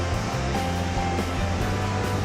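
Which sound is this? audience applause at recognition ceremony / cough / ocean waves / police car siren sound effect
ocean waves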